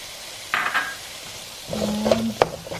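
Garam masala is stirred into a turnip and spinach dish (shalgam palak), with a few brief scraping and clinking strokes of a spoon against the pot and a soft sizzle between them, close and clear.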